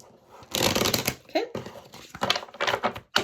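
Oracle cards being shuffled close up, a run of crisp riffling and flicking bursts with short gaps, ending in a soft tap.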